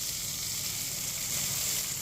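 Vermicelli (sevai) frying in a spoonful of oil in a pan over a lowered flame, a steady close sizzle with a bright continuous hiss and no pauses, heard alone without talk.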